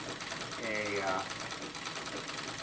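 A sewing machine stitches heavy quilting into white denim fabric, a steady close mechanical whir with a rising tonal hum partway through, running under a person talking.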